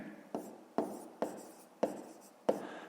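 A pen writes on paper in a few quick strokes, with five distinct scratchy taps at a steady pace. The sound is close and faint, with no talking.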